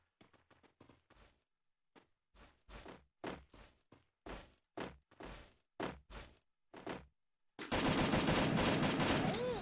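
Gunfire in the Free Fire mobile game: a string of sharp separate shots in quick clusters and then spaced single cracks, closing in a loud continuous blast of noise, close and alone.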